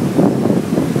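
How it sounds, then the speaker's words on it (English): Steady roaring wind buffeting the microphone, with low rumbling gusts rising and falling throughout, loud and close. "Bloody windy now, but not that much."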